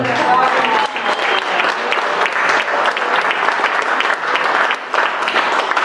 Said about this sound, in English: So a round of applause for that one there.